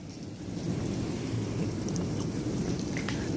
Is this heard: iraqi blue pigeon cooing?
no